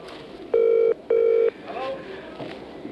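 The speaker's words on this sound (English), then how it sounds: "it's ringing out" A British telephone rings out, two close electronic double-rings in quick succession, each about half a second, followed by a quieter stretch with faint background sound.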